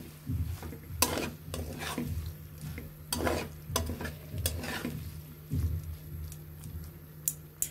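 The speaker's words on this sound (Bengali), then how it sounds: "আস্তে আস্তে করে পাস্তাগুলো নেড়ে দিতে হবে" Pasta stirred in a pan with tomato sauce and soy sauce, giving a low wet sizzle broken by irregular scrapes and clinks of a spoon on the pan, close and quiet.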